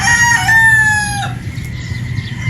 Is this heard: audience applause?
no